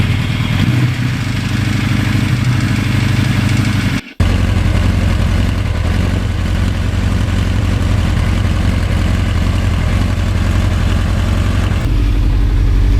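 A 38-year-old Suzuki GS1100E motorcycle idles close by with a loud, even low rumble that holds steady throughout, broken only by a momentary dropout near four seconds.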